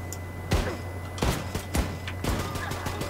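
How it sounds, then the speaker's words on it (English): Gunfire in the shooter game Wolfenstein II: The New Colossus, a few sharp shots spaced across the stretch over a steady game background hum, each burst loud and close. "People are attacking him, he's shooting them back."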